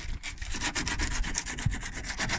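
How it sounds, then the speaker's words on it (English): Sandpaper rubs back and forth over a plastic children's slide, sanding off excess in quick, rhythmic scratchy strokes, close and steady with no talking. "just take a little bit of sandpaper and"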